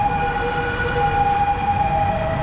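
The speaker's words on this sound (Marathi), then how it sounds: "तर फायनली मेट्रो आली आता." A metro train in Thailand rolling in with a steady rumble and a sustained high whining tone from the motors, loud and close throughout.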